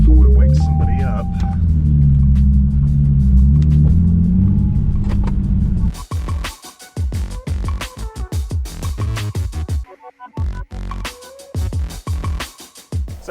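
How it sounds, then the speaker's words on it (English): Nissan 370Z engine starting up in a garage, a loud low idling rumble for several seconds before a voice begins talking over it as the engine noise fades under the speech. "We will get the car started."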